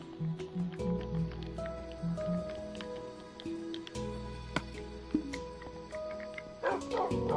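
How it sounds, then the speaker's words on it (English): Dog in the Minecraft video game barking: a few short, clipped barks and yips, close and clear, among scattered game sound effects and faint background tones. "Dog."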